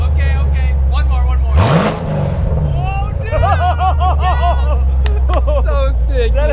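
A 2016 Corvette, straight-piped through headers and a catless X pipe, gives a sharp, loud rev that swells and drops back to a heavy idle, with excited voices chattering over the rumble.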